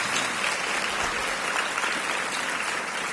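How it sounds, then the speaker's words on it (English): An audience at a National Alliance to End Homelessness conference gives a sustained, even round of applause, many hands clapping together without pause for the whole stretch. "Please give them a big round of applause."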